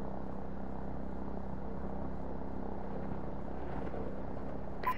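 Helicopters in the video game Call of Duty: Modern Warfare drone and thrum in a low, continuous rotor rumble that holds steady at a moderate distance with no talk.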